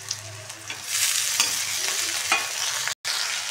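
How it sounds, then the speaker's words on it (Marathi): Soaked sago hits a pan of fried tomatoes and sizzles steadily, with stirring scrapes and a brief dropout near the end, loud and close with no talking. "यात आपण भिजू घातलेला शाबू टाकून घेऊया।"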